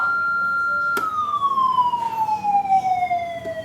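Vehicle siren demonstration: a clean electronic tone holds steady, then after a sharp click slowly sweeps downward in pitch over several seconds, fairly close and moderately loud, with no talking.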